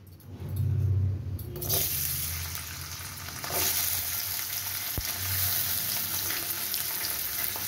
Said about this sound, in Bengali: আমি প্রথমে নারকেলটা ভেজে নেব।